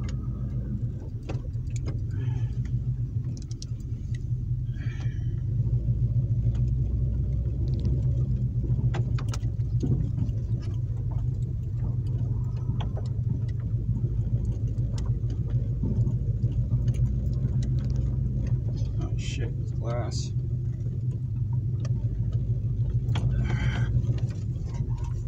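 A car engine idles steadily in a parked car behind an abandoned family restaurant in Mount Morris, Michigan, a constant low rumble with faint mechanical ticking and no talk.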